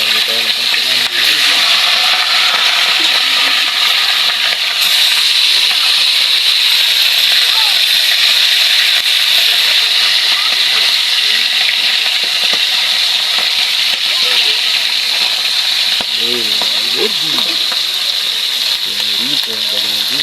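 Galunggong fish sizzle steadily in hot oil, a loud continuous frying hiss with occasional scraping and stirring, and a voice talking over it.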